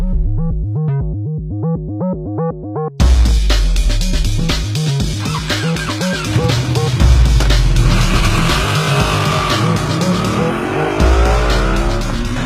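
A racing motorcycle lapping the Magny-Cours circuit: a revving engine climbs in stepped gear changes, then a louder, rougher engine roar with rising and falling pitch sweeps continues close and steady.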